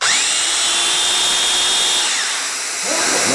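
A Festool Domino DF-500 joiner runs loud and close, its motor whining up to a steady high pitch, holding there, then winding down near the end, with no talking over it.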